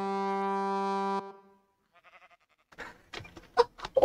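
A goat in Minecraft 1.19 lets out a long, brassy horn-like bleat, followed by softer stuttering bleats and then scuffling game sounds.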